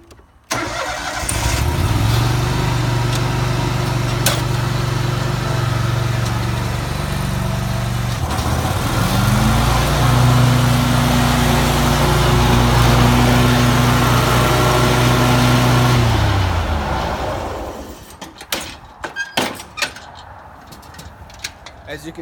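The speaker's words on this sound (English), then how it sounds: "how to use a commercial lawnmower and mow your yard" A commercial lawnmower engine runs loudly and steadily for about fifteen seconds with some shifts in pitch, then shuts down, leaving scattered clicks and handling noises.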